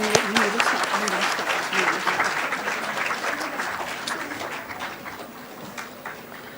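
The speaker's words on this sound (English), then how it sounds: "let us all invite Madam with a huge round of applause" An audience of students in a hall applauds to welcome someone speaker at a gender sensitization session, clapping spread across the room, with voices and some birdlike sounds mixed in and the applause fading slightly toward the end.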